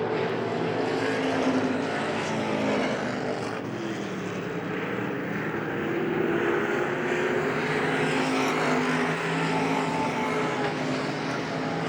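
Pure stock race cars running nose to tail at Hagerstown Speedway during a night finale, a steady loud roar of several engines droning continuously throughout, with no clear passes standing out.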